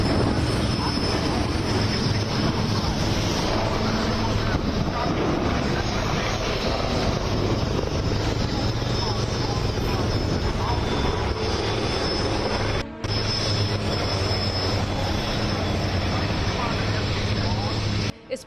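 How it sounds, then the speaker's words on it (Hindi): Dhruv advanced light helicopters of an aerobatic team fly over the Aero India 2021 airshow in Bengaluru, a loud, continuous rotor and engine roar filling the whole stretch with a brief dip near the end. "आसमान में उड़ते ये सभी हेलीकॉप्टर भारत के ही हैं।"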